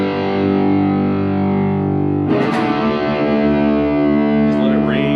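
Distorted electric guitar playing a solo: a long sustained note rings out, then breaks into a quick run of phrases with bends, all loud and continuous.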